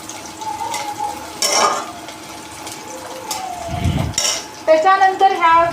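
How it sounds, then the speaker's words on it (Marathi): Onion, garlic and ginger stir-fry in oil in a wok for Hakka noodles, with soft sizzling, clinks of a spoon against the pan and a few scraping stirs, and a voice briefly heard near the end. "कढईमध्ये तेल टाकायचं आणि तेलासोबत कांदा परतायचा"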